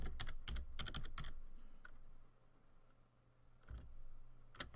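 Password typed on a computer keyboard at a desk: quick bursts of close, crisp key clicks in clusters, a pause, then a few more scattered taps, with no talking.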